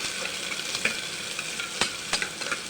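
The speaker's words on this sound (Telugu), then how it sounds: "ఆయిల్ హీట్ ఎక్కిపోయింది ఆనియన్ పచ్చిమిర్చి వేసుకొని చేపు వేపుకుందాం" Onion and green chillies frying in hot oil for a mutton curry, a steady bright sizzle with occasional sharp crackles and spatters, close and alone without voices.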